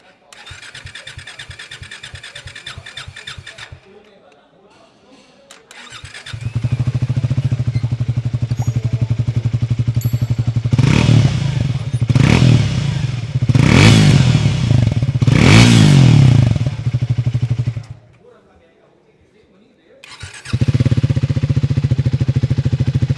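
A 2025 Triumph Speed 400 and a Triumph T4 motorcycle idle one after the other with a steady, thumping exhaust, and one engine is blipped in several sharp revs before settling back to idle.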